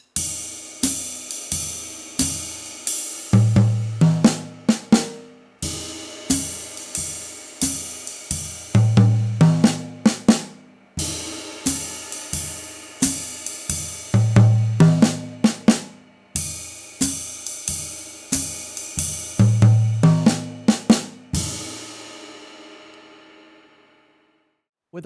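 Jazz swing drum fills on floor tom, rack tom and snare, played close and loud as several repeated phrases. Steady cymbal strokes are broken up by quick runs of drum hits, with no talking, before the sound rings out at the end.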